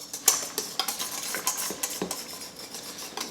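A utensil stirs flour into beignet batter in a bowl, steady scraping and clinking strokes against the sides, close and fairly loud, with no talking.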